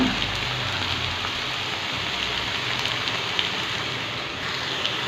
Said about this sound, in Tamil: மட்டன் மசாலா போட்டோம்லங்க அது கொஞ்சம் பச்சை வாசனை போய் எண்ணெயில் கொஞ்சம் பிரிஞ்சு வர ஆரம்பிச்சிருக்குது